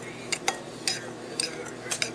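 Dry Italian salad dressing mix of celery seed and garlic powder being stirred together by hand, a spoon clinking against the bowl in several sharp taps spaced through the stirring, close and fairly quiet.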